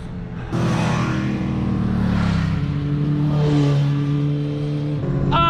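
Several motorcycles rev and accelerate past on a Pyrenean mountain road near the Col d'Aspin, engine tones rising and falling as they sweep by loudly and close, with a sharp higher rev at the end.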